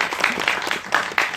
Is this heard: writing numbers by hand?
no